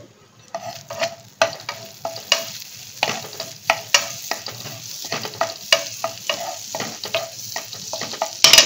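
Green chilies frying in butter in a pan, a soft continuous sizzle broken by frequent rhythmic scraping and stirring strokes of a spatula, close and clear with no talk.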